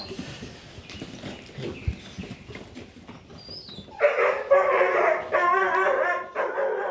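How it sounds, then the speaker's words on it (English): A farm working dog, a young stock dog at her first training session, gives a run of loud, close barks and yips in the second half after quieter outdoor rustling. "I told you it was a mighty bark."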